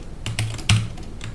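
Light keystrokes on a computer keyboard while writing C code in an IDE, a few quiet, uneven taps close by with no talking.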